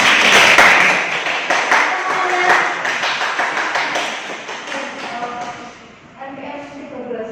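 A class of students claps together in a classroom lesson, a burst of many close hand claps that thins out and fades over several seconds, with voices murmuring underneath.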